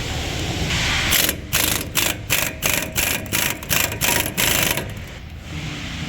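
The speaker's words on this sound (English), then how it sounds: "I'll be using my air gun to take them off with a swivel" An air impact gun with a swivel socket hammers out 18mm Loctite-coated brake caliper bolts on a 2019 Chevy Silverado front brake, in rapid rattling bursts of rhythmic impacts over a steady compressor-like hiss.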